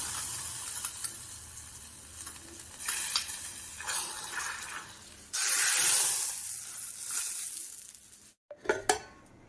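Hot cumin tempering sizzles loudly as it is poured into a dry beans kulambu, a steady hiss that flares into a bright burst, followed by brief clinks of a pan and spoon.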